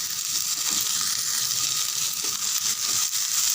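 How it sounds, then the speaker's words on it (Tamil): Broad beans sautéing in a pan give a steady, even sizzle with soft scraping and stirring underneath, close and continuous throughout. "ஒரு 3-4 நிமிஷம் நல்லா வதங்கட்டும். இந்த டைமில் நம்ம எடுத்து வச்சுருக்கிற அவரையை அப்படியே சேர்த்துருங்க"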